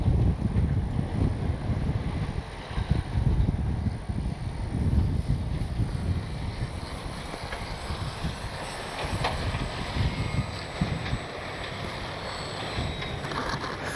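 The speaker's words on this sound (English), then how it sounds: "It's so windy I can't even hear the motor on the plane." Strong wind buffets the microphone in a constant, heavy rumble, drowning out the motor of an FMS Ranger 1220 mm RC plane outdoors. There is no voice over it.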